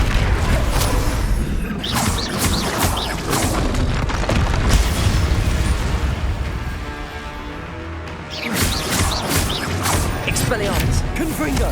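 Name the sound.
spells cast in Hogwarts Legacy video game, Confringo explosion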